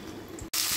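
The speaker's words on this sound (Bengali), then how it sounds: "এই দেখো এঁচোড়ের মধ্যে আমি একটুখানি লবণ আর একটু হলুদ দিয়ে ভাপ দিয়ে নিচ্ছি।" Young jackfruit pieces with salt and turmeric steaming in a pot on a gas stove, giving a steady close watery hiss and bubbling that briefly cuts out, then returns louder and brighter.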